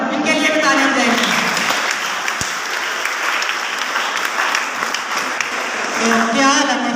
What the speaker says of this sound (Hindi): इनके लिए भी तालियां जाएगी